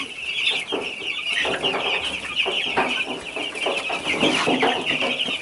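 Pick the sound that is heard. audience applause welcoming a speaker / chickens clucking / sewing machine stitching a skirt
chickens clucking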